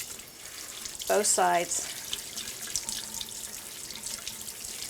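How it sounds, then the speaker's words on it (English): Tap water runs steadily while a robot vacuum filter, from a Eufy Clean X8 Pro, is washed by hand, a continuous close splashing hiss with a short spoken phrase over it partway through. "to clean the filter, you just wash it with water"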